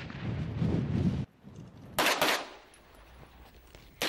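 Gunfire during special forces weapons training at the Centro de Adiestramientos Especiales in Logroño: a loud sustained burst, then a pause and two sharp, closely spaced reports, with another shot cut off at the end.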